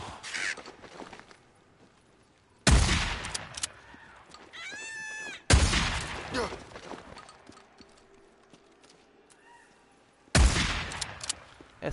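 Gunfire from a weapon in the video game Days Gone, arriving as three loud sudden bursts spread across the stretch, each fading into a noisy tail, with softer game sounds and bird-like calls in between.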